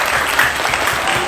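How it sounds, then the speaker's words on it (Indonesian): Applause from a classroom of students clapping loudly and steadily for a short burst, close by and filling the room. "Ya, kasih tepuk tangan yang meriah."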